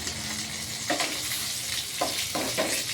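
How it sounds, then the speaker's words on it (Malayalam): Green chillies frying in a pan for a restaurant-style chutney, a steady close sizzle with brief stirring scrapes breaking through at intervals, no voices. "പച്ചമുളകും ഒന്ന് നല്ലോണം ഫ്രൈ ആയിട്ടുണ്ട്"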